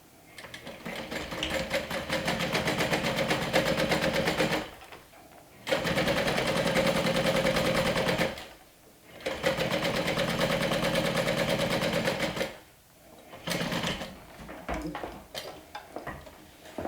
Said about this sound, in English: Top stitch with your seam allowance going down 1/8 of an inch away from the fold.